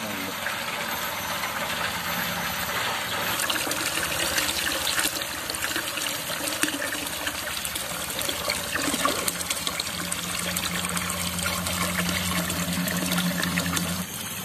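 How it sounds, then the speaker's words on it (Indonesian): Clear well water pouring into a container as it fills, a continuous splashing trickle with a steady low hum underneath, close and even, a slight tonal rise toward the end as the container fills. "Ini air sumur tanah teman-teman. Dan saya isikan ini sampai penuh ya."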